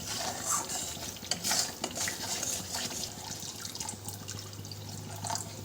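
Paneer curry in a pan with water added and stirred in, scraping stir strokes over a bubbling, sizzling simmer, close and moderately loud, without speech.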